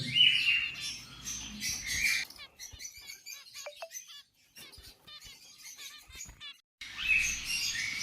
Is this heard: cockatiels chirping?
yes